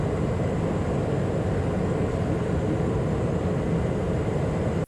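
Inside a Cessna Citation Mustang jet climbing out of Carson City over the Sierras, a steady broadband engine and air roar holds constant and loud throughout.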